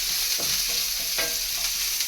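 Chopped onion, a green chili and curry leaves sizzle steadily in a hot pan while cooking a moringa leaf and egg thoran, a close, continuous hiss broken by a few soft scraping stirs, with no voices.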